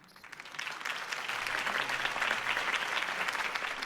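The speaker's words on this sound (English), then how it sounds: "If only Mr. Wayne, my campaign's largest backer, could have heard that applause" A crowd applauds steadily in the video game Batman: The Telltale Series, a dense wash of clapping that swells slightly and holds at a moderate, somewhat distant level.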